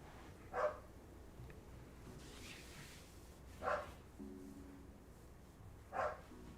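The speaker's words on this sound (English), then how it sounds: "Sorry about my dog. She's barking to go out." A dog indoors gives three short, sharp barks a few seconds apart, moderately loud over a quiet room with faint background noise, barking to be let outside.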